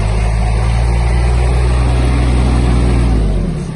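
A Kubota A-17 Japanese mini tractor turning with the steering at full lock, its engine droning loud and steady at close range, then dropping slightly at the end, with no talking.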